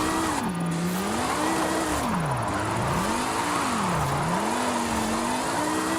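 Engine of a BMW in the Forza Horizon 5 driving game, revving under throttle with a wavering, rising and falling pitch, loud and steady for the whole stretch with no talking.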